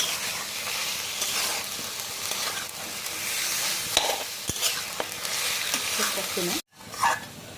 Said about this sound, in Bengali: চুলার আঁচটা হাই করে দিয়ে মাটনটাকে পেঁয়াজ আদা রসুনের সঙ্গে ভালো করে কষিয়ে নিচ্ছি।